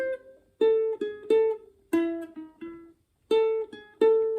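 Ukulele picks a melody with a swing feel, single plucked notes in uneven, lilting groups separated by brief gaps, close and clean with no talking.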